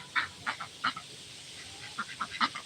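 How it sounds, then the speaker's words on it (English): Ancona ducks quack nearby in a loose, irregular series of short nasal calls, some clustered in quick bursts, with no talking. "You're just gonna quack at me."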